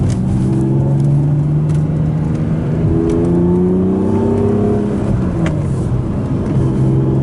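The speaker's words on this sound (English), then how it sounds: "We're just rev matching right there, and it was like butter putting it in." BMW Z3 M coupe with the S54 inline-six revving sharply during a rev-matched downshift, a steady engine drone from inside the car with a quick rising blip and settle, no talking.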